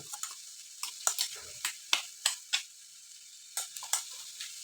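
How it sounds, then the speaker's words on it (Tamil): Ground paste stirred through frying red stem amaranth greens in a pan, with a soft steady sizzle and a scattering of sharp clicks and scrapes from the spoon against the pan. "அரைப்பை எல்லாத்தையும் அதில் போட்டு போட்டு நல்லா கிளறி கிளறி விடணும்"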